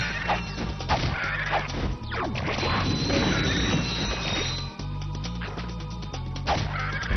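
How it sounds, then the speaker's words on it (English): A flamethrower fires in Ratchet & Clank: Tools of Destruction, a dense, continuous roaring whoosh with crackling game effects layered over it. It runs steady and loud for several seconds with no talk. "this is me demonstrating that flamethrower"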